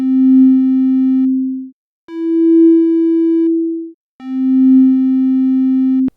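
A synthesizer oscillator sounds a pure sine tone in three sustained notes with soft attacks, the middle note slightly higher in pitch, clean and steady with short gaps between.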